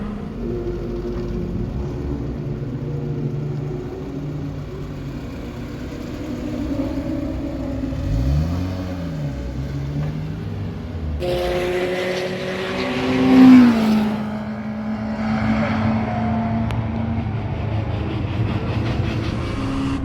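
A Toyota Corolla T Sport races at Donington Park, its engine droning steadily down the main straight, with rising and falling revs and a brief louder surge near the middle, heard from inside the car under constant road rumble.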